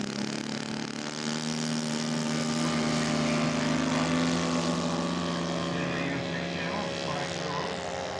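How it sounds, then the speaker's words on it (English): Spacewalker scale model airplane taxiing out at a scale aircraft show, a continuous loud propeller engine drone with steady tone, close by and outdoors. "Eduardo Estevez taxiing out for his first flight on Saturday morning"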